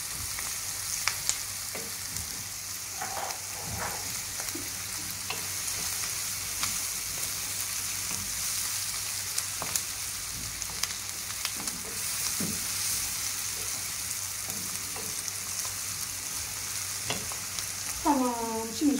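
Onions frying in a pan until golden, a steady crackling sizzle running throughout with occasional clinks, and brief faint voices near the end.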